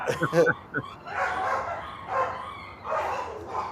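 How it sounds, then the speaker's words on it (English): Dogs snarl and bark in a rapid, aggressive scuffle, close and loud, with a burst of sharp yips at the start. "dogs are trying to kill each other?"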